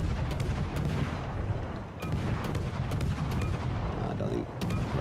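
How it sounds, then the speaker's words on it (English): Naval cruiser guns fire in the World of Warships: Legends video game, a rapid series of sharp booming shots in irregular bursts over a rumbling low background. "more shots from those cruisers"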